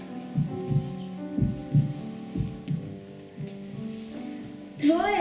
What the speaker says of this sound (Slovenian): Začuti bitje srca.